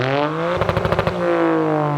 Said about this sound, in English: the 3-cylinder in this car is one of the most unique sounding street cars I have ever heard